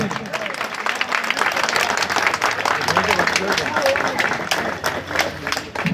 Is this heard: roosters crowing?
no